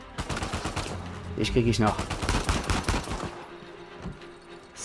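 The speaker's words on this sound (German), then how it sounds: "die da Mitte auf dem Markt rumschießen" Repeated gunfire bursts from the video game Uncharted 4, a shootout in a marketplace, crackling in rapid volleys for several seconds under a voice speaking German.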